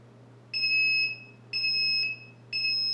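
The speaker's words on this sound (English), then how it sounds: "You can see the beeper is very annoying." Beeper of a KitchenAid KMT422CU 4-slice toaster sounds three loud, shrill two-tone beeps, each about half a second long and evenly spaced roughly a second apart, over a low background hum.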